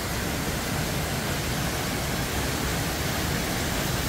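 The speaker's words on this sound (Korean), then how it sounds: "폭포네요. 폭포." A waterfall pours over rocks in Yumyeong valley on Yumyeongsan, Gapyeong, giving a steady, dense rushing wash of water that holds level and unbroken throughout, close by and with no voices.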